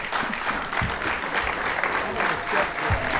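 An audience applauds at a university athletic hall of fame induction ceremony, with steady, full clapping from a crowd filling the hall and a few voices mixed in.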